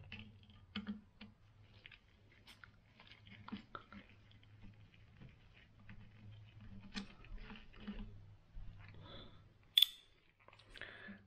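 Quiet, scattered metallic clicks and small scraping taps come from screws being unscrewed on a Marlin 30-30 rifle, close and soft with a sharper snap near the end.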